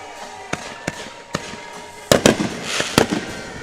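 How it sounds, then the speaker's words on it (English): Fireworks go off at a high school football game as the teams run onto the field, with sharp scattered bangs early on, then a denser cluster of loud pops and crackles, outdoors with crowd noise behind. "Nothing to be afraid of for our safety, just a few fireworks."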